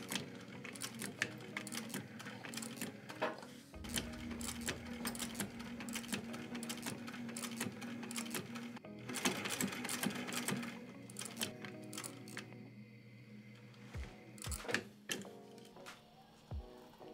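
A sewing machine stitches a lining onto a handmade leather sneaker, a steady run of rapid ticking needle strokes at close range with short pauses and clicks toward the end.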